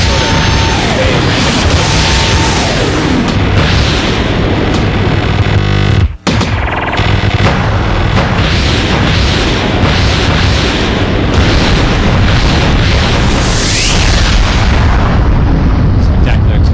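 A large explosion erupts during a video game boss fight, a dense, sustained roar with booming impacts filling the whole stretch, loud and continuous, with a brief sharp cut partway through.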